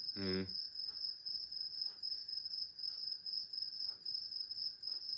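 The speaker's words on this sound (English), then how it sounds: "I don't mind crickets" Crickets chirp continuously in a steady high-pitched trill, with a brief louder tonal sound at the start and faint soft thumps behind.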